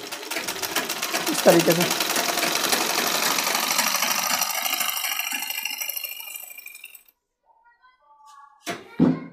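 A sewing machine runs steadily for several seconds, stitching the folded hem of men's underwear, then stops; a voice speaks briefly near the end.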